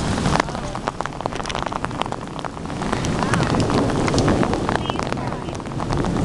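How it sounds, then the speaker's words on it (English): Rain falls during a severe thunderstorm in Grand Forks, North Dakota: a dense, continuous hiss with wind buffeting the microphone, fairly loud and steady throughout. "The wind kind of just stopped recently and it started raining"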